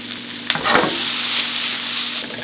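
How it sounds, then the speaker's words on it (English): Vegetables brown in a hot pan for vegan gravy, a steady close sizzle and frying hiss with a brief stir or clatter near the start, no talk. "Now that I have my vegetables browned"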